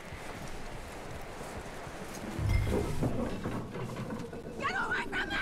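Horse hooves clip-clop in a Western video game, soft rhythmic thuds beneath game dialogue and ambient noise, with a brief louder thump midway and a whinny-like tone near the end.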